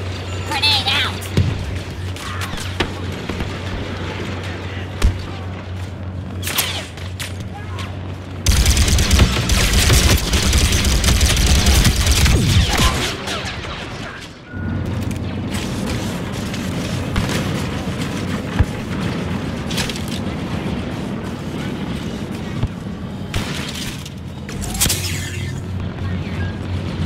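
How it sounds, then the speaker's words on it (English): Grenade explosions and heavy gunfire from the video game Star Wars Battlefront 2, with a loud sustained blast burst midway over constant battle noise, and voices talking throughout. "grenade out!"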